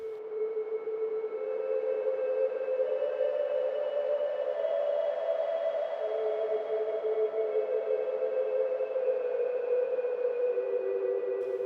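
A mellow synth pad from a Logic Pro X beat holds sustained, smooth chord tones that swell in softly and ring on evenly with a subtle shift midway, playing alone with no voices.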